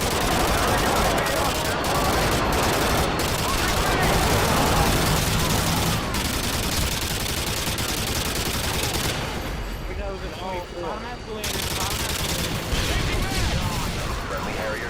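Dense video-game battle gunfire from an Xbox match, with continuous fusillades of rifle and machine-gun fire and booming airstrike explosions rolling loud and close throughout, briefly thinning midway before resuming, with game voice callouts over the din.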